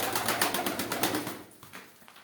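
Pigeons cooing inside a spacious loft in Dağönü village, a dense overlapping chorus of soft throaty coos that thins out halfway through, close and steady.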